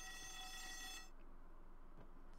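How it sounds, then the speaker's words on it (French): An alarm signal in a Garry's Mod World War I military roleplay game sounds as a steady, even electronic ringing tone that holds for about a second and then cuts off, leaving quiet room noise. "on lancerait une alarme, je vous présente, je vous montre ce que c'est"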